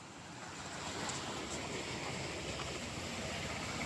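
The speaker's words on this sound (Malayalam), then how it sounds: "മനോഹരമായൊരു പുഴയൊക്കെ ഒഴുകി പോകുന്നു" A river flowing past a village, a steady broadband rush of water that stays even and continuous throughout, with no voices.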